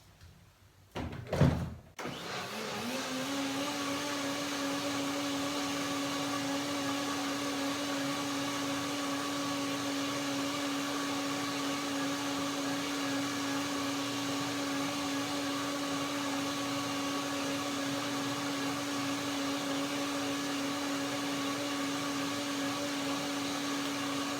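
After a brief clatter, a blender making garlic macadamia mayonnaise whirs to life and runs at a constant high-pitched drone for a long, unbroken stretch.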